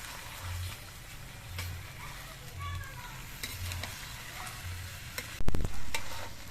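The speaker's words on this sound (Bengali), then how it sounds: "এবার আস্তে আস্তে সব কিছু দিয়ে নেড়ে চেড়ে মিশিয়ে নিতে হবে" Rice, dal and winter vegetables for mixed khichuri being stirred together in a cooking pot, a soft continuous sizzle with repeated low scraping strokes at a steady rhythm and a couple of louder clanks near the end.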